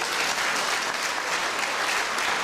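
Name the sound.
warm applause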